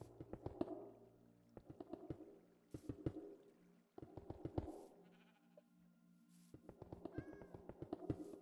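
Cats in Minecraft Bedrock Edition at an iron farm meow over and over, many overlapping calls in irregular bursts, fairly faint and mixed with clicking block sounds, no talk.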